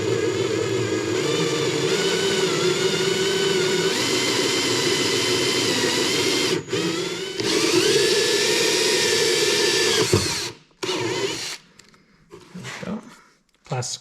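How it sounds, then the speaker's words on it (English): Hole saw working through a thick plastic panel on a Polaris snowmobile: a loud, steady high-pitched whine for about ten seconds, then stopping and starting in short broken bursts as the cut finishes. "Now we'll jump in here with the hole saw, using our pilot hole to start us off."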